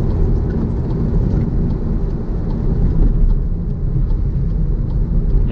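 A SEAT Arona FR with a 1-litre engine drives on a wet road in rain, producing a steady low rumble of road and tyre noise mixed with rain hiss, continuous with no talking.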